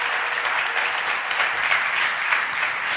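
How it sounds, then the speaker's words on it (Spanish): An audience at a thirtieth-anniversary event gives a sustained, dense round of clapping for sign language interpreters, a steady wash of many hands that fills the whole stretch without a break. "darle un aplauso bien fuerte a los intérpretes de lengua de signos"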